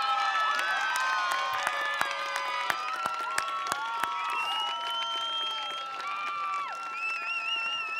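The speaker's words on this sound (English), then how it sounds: "Join me in a round of applause for the class of 2017" A high school graduation crowd applauds and cheers the class of 2017, with clapping mixed with whoops, whistles and excited shouting voices, a few sharp claps standing out near the front.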